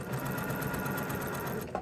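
A sewing machine runs a seam on a quilt block with partial seams, a continuous close, even whir of rapid stitching that halts with a small clunk at the end.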